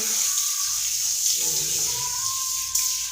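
Water runs steadily from a tap while a dog is bathed with hot water, a continuous close splashing hiss with no talk over it.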